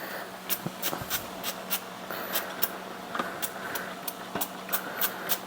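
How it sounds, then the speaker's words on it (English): Short sprays of zero-calorie butter spray misted onto English muffins, a run of quick hissing bursts at an irregular rhythm, close and fairly soft with no talking over them. "It's a 0-calorie butter spray and just makes the muffins like a little bit crispy."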